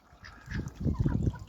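Runner ducks quack and honk nasally in a short, close cluster of calls that builds toward the end, with no talking.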